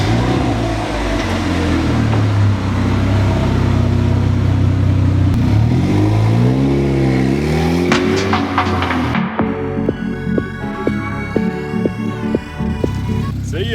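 A supercharged DF Goblin car engine revs close by, a loud droning throb that rises and falls in pitch through several swells, then settles into a rougher pulsing idle with whine-like tonal overtones.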